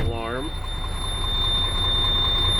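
Air pressure warning on a 7-ton MTVR military truck sounding as a steady high electronic tone over the idling engine rumble, with a short rising squeal at the start.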